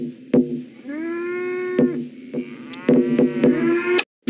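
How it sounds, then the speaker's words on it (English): Cartoon cows moo in the Traintown Deluxe video game, several drawn-out, rising lowing calls one after another, punctuated by sharp knocks and clicks, clear and close. "we have more cows on the radar."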